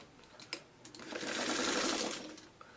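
A sewing machine stitches quilt seams, a short run of whirring that builds, holds and fades over about a second, framed by faint clicks and handling noise in a quiet room.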